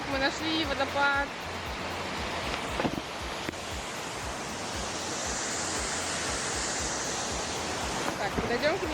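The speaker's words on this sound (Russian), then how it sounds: "Так, мы нашли водопад." A waterfall on a path near a beach in Albania, a broad continuous rush of falling water filling the background, with voices speaking briefly at the start and end.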